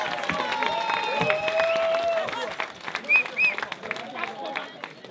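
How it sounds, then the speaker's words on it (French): A crowd at a dance battle claps and cheers at moderate loudness, the applause mixed with shouts and whistles and with voices heard throughout. "Je voudrais vraiment qu'on vous applaudisse bien fort, s'il vous plaît."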